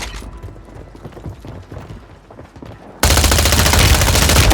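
Automatic gunfire erupts in a Warzone 3 match at Fortune's Keep. Faint, rhythmic background activity gives way to a sudden, dense, loud burst of rapid shots that keeps going to the end.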